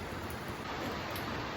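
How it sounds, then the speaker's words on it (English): Rain falls steadily outdoors at a concrete-pouring site, a dense, even hiss of drops hitting the surface with no pauses or voices. "it's literally been raining the whole time that I've been filming this video"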